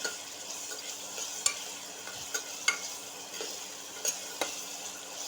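Dal and spinach being sautéed in a pan: a quiet, steady sizzle broken by occasional sharp ticks of a utensil against the pan, with no voices.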